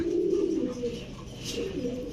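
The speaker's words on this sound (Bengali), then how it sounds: "খুলনার ঐতিহ্যবাহী গলায় লাল কবুতর" Low, soft coos of red neck pigeons rumble close by, with a faint chirp, in a short quiet stretch.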